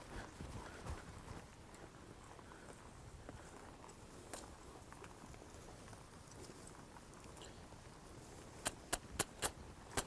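Faint, steady hoof clops of a colt walking outdoors by a cattle herd, with a few sharper knocks near the end and quiet background.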